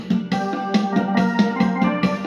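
A Casio CTK-5000 electronic keyboard's first voice plays a melody over a steady automatic rhythm backing, with regular beat hits and sustained tones throughout.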